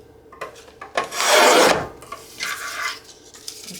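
Paper being trimmed for a handmade junk journal, a few short scraping cuts followed by one long, loud rasping stroke and a softer scrape after it, with no talking.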